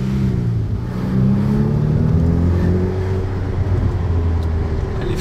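A Ferrari F8 with roughly 720 horsepower accelerates on the road, its engine note heard close and loud as a deep tone that climbs and swells steadily, with no talking.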